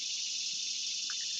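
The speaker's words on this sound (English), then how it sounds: "Cicadas are getting really loud." A loud, steady cicada drone fills the air with a continuous high buzzing hiss and no pauses, and a few faint extra sounds barely show beneath it.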